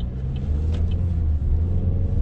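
A used Holden car's engine hums steadily from inside the cabin on a test drive, a loud, even low rumble with no talking over it.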